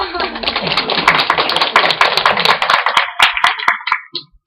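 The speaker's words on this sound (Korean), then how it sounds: "박수 쳐주세요." An audience at a Korean international children's and youth human rights forum claps under a speaking voice, the sound tapering into a few last separate claps near the end.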